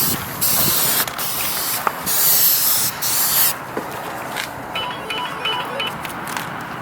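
Dupli-Color Perfect Match spray paint hisses onto a car bumper in several short, close bursts, then quieter handling sounds follow.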